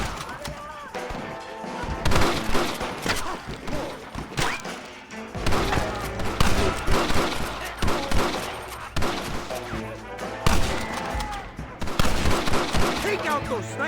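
Gunfire in the Western video game Red Dead Redemption: repeated bursts of rapid shots and heavy booming blasts in clusters separated by short lulls, loud and close throughout.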